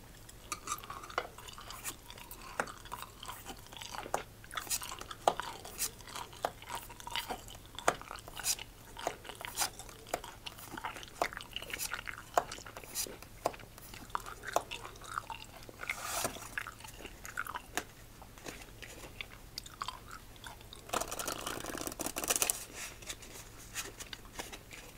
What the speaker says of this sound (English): let me pop in another apricot